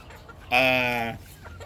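One drawn-out rooster call, a harmonic squawk lasting over half a second, stands out against faint background noise.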